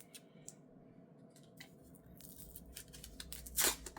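Tape peeled away from a HyperX QuadCast 2 microphone sitting on its stand, soft scattered crinkles and small tearing rasps building to one louder, sharp rip near the end, close and quiet.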